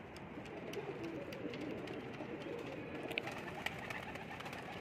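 Indian Teddy pigeons coo softly and steadily in a loft, low murmuring calls overlapping continuously with a couple of faint sharper clicks or flutters.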